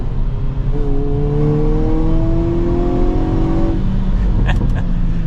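A 2023 Hyundai Kona N in its aggressive drive mode, engine rising steadily in pitch as it revs under acceleration, loud and close, then backing off into crackling exhaust gurgles and pops at the end.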